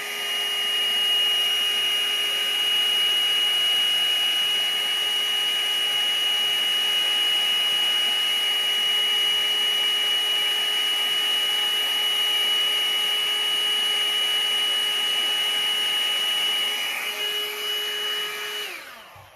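A small electric blower runs steadily and close for nearly twenty seconds, pushing premixed pouring paint over a surface to create lacing, holding a constant whine before cutting off at the end.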